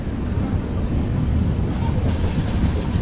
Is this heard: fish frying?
no